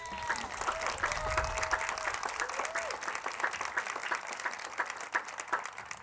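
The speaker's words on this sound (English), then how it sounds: "So give Karen another round of applause." Audience at a domestic violence awareness walk applauding outdoors, steady crowd clapping throughout, with a few voices and a brief tonal sound early on mixed into the continuous applause.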